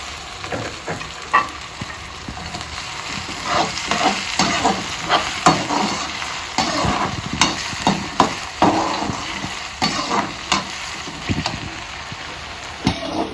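Onions and potatoes frying in a pan, with steady hissing sizzle broken by repeated scraping stirs and clacks of a spoon against the pan, loud and close.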